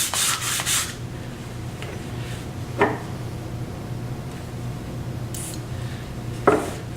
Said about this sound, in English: So I'm going to clean the bottom of the banjo.